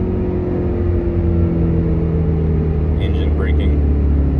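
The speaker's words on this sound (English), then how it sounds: "Downshift 4th to 3rd, 3rd to 2nd." A BMW M5 F10 fitted with exhaust cutouts downshifts from third to second, giving a loud, steady low engine rumble with a brief rising rev blip near the end.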